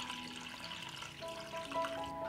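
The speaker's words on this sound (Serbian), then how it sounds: "I sipam vodu u šerpu do visine poklopca." Water runs into a pot holding glass jars set on a cloth, a faint steady pouring trickle with a few ringing tones over it, no voices.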